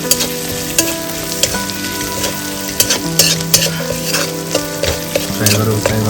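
Chicken curry frying in a pan in Bhutan, with a steady loud sizzle and repeated scraping, clinking strokes of a utensil stirring the pan at an uneven rhythm throughout.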